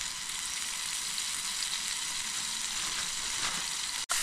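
Tomatoes fry in a pan with a dense, steady sizzle that fills the space without pause, close and fairly loud, with a brief sharp knock near the end.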